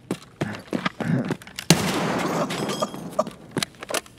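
Gunfire in Escape from Tarkov: a sudden loud, sustained burst of shots cuts in midway, followed by scattered sharper cracks, all close and prominent.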